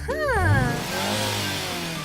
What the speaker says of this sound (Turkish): Tamam Lili, motorunu dinleyelim.